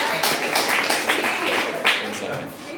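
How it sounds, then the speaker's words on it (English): An audience at a live event gives a round of applause, a dense patter of clapping that carries through the whole moment with scattered louder claps. "Let's have a round of applause for toilet paper."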